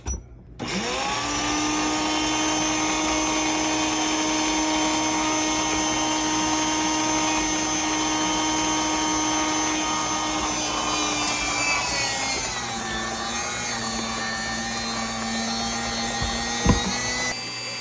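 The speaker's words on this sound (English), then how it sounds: "now with these trimmings, I have my meat grinder here. This is actually a really cool meat grinder." An electric meat grinder, a thrift-store unit, grinds beef tenderloin trimmings, a steady loud motor whine with strong tonal hum running continuously for about eleven seconds, then shifting pitch as the load changes before winding down.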